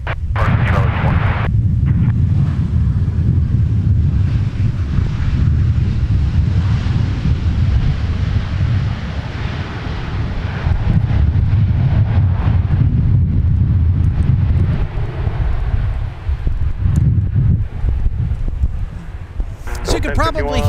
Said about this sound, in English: The winds have been all over the place